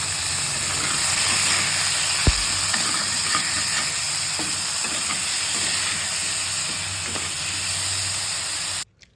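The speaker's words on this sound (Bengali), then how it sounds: "এখন আমি টমেটোর, কাঁচা লঙ্কা, পেঁয়াজগুলো কেটে একটু ভেজে নেব কড়াইতে।" Chopped tomatoes, green chilies and onions fry in a wok, a continuous close sizzle with scattered stirring clicks and taps before the sound cuts off abruptly.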